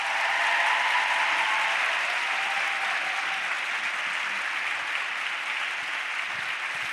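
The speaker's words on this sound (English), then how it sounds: "One big round of applause for her." Sustained round of applause from an audience at the close of an evening talk with author Kendra Adachi, a dense steady clapping that fades slightly toward the end.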